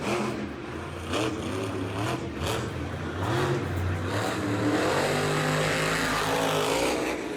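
A monster truck's engine revs hard through a big wheelie and lands on two wheels at Monster Jam Tampa 2020. The roar stays loud and continuous, rising and falling in pitch, with arena crowd noise underneath.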